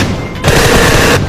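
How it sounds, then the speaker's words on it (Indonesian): Rapid burst of gunfire sound effect resembling pistol shots, loud and dense, cutting in after a short quieter lead-in and holding steady for about a second before stopping. "Kayak pistol deh."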